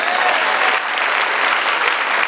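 A church congregation at a Spanish-language service applauds in a thick, even wash of clapping from many hands. It sounds close and full, with no speech over it.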